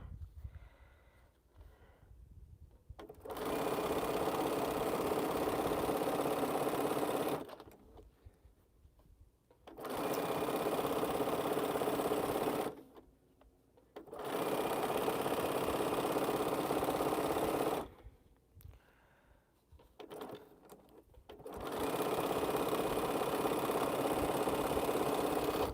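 A sewing machine stitches quilt pieces together in four steady bursts of rapid whirring, each several seconds long and separated by short quiet pauses, heard close with no talk.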